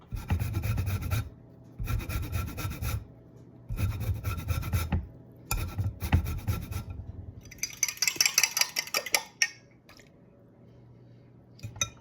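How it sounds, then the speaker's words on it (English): A fork beats a cracked egg in a dish with repeated rhythmic scraping and rubbing strokes in short bursts, followed by lighter clicking and tapping near the end, close and fairly clear with no talking. "I'm going to crack the egg, beat up the egg a little bit"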